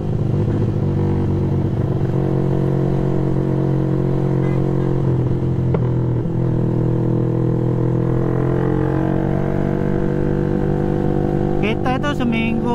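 Yamaha motorcycle cruising along a lightly trafficked road, a steady loud engine drone with wind rush throughout, a rider talking over it, and a brief rising rev near the end.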